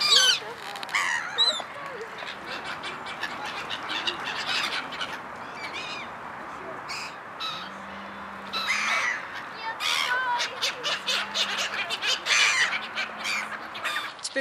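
Gulls squawk and call repeatedly in the open air by a lake in Krasnodar, Russia, harsh cries overlapping at varying distances over a steady outdoor background.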